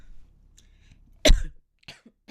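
A single sharp cough stands out near the middle, with faint quiet sounds before it and a soft throat sound after.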